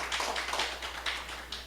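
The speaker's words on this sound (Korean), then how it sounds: "우리 박수하겠습니다" A church congregation applauds at a Thanksgiving service, a brief patter of soft, scattered hand claps at moderate distance over a low steady hum, with no talking.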